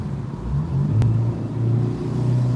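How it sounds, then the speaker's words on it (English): A Dodge SRT engine revs up and drops back during a downshift, a deep rumbling growl with shifting pitch, loud and close. "I'm gonna give it a little downshift."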